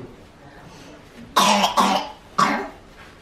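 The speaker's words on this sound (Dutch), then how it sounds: "Flinke hoesten." A child coughs outdoors in snow, two close loud coughs followed by a third after a short pause, with quiet background between.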